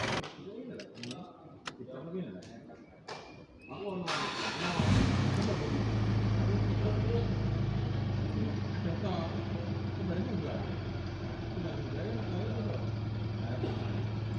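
A Mitsubishi Pajero Sport with freshly repaired and replaced injectors and nozzles starts up and settles into a steady, even idle heard close by, after a few seconds of clatter and brief handling sounds beforehand.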